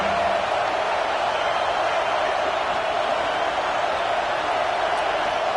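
Football stadium crowd at a UCLA game, a broad continuous roar of many voices filling the air at steady loudness with no breaks, heard from within the stands.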